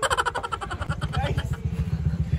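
A motorcycle engine putters close by in a rapid, throbbing low pulse that rises and steadies over a couple of seconds, loud and up front with no voices on top.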